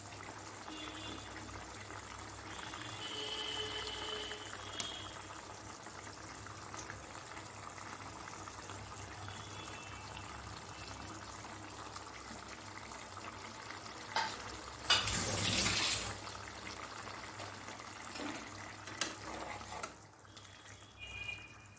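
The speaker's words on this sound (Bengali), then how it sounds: "এখন আমি এর মধ্যে দিয়ে দিচ্ছি ভেজে রাখা মাছ।" Fried fish is slipped into a simmering curry of ridge gourd, pointed gourd and potato. A soft, low bubbling runs throughout, with a brief louder splash and stir near the middle.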